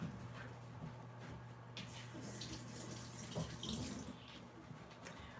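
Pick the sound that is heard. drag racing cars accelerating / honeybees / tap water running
tap water running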